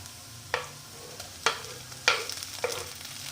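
Tomatoes frying with onion in oil for a carrot sabzi: a quiet background sizzle punctuated by four sharp spatula scrapes and clacks against the pan, each fading quickly, heard close with no speech.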